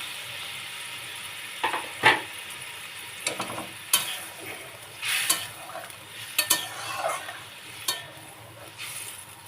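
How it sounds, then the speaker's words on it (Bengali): Pointed gourds frying in spice masala in a pan, a soft sizzle underneath intermittent scrapes and clinks of a spoon stirring, close and moderately quiet. "এবারে একটু গরম জল দিয়ে দিলাম পটলের মধ্যে মশলা কষে নিয়ে"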